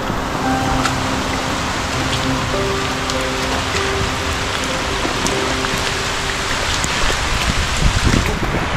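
Steady rain falls in a forest, a dense continuous patter of drops with occasional louder drips on nearby surfaces, no voices heard.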